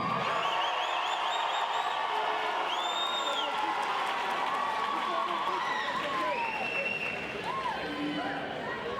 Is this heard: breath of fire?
no